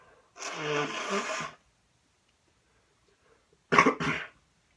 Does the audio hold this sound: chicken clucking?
no